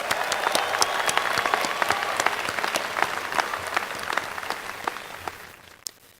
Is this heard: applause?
yes